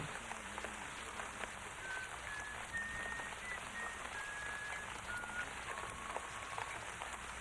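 Steady rain falling on surfaces, a soft even hiss with faint high chirps in the background.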